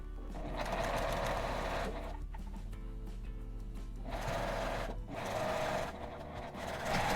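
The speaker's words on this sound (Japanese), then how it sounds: "上と下を5ミリの縫い代で縫いました。" A sewing machine stitching fabric for a washable cloth face mask with a 5 mm seam allowance, whirring loud and close in long continuous runs broken by a couple of brief pauses.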